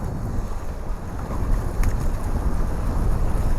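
Wind rushes steadily across the microphone at a windy water-sports session, a constant loud low roar with slight gusting swells and no voices.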